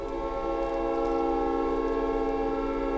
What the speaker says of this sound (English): Layered horn. The one's a little off key, but it's a jet sound, right?